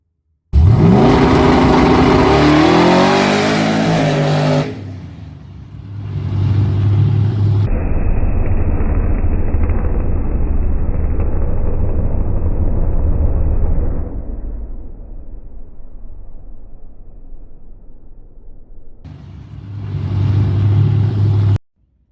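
A Mustang race car engine revs hard and climbs in pitch, then, with its exhaust blown off, cuts to a loud, harsh blast and a rough, droning roar before revving again, at Windy Hollow.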